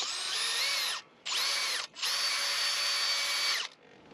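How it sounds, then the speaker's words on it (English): A power drill bores a hole in three whining bursts, a short one, a brief one and a longer one, with pauses between, loud and close with no talking. "I use the edges of the drill as kind of chisels to get to where we need to go"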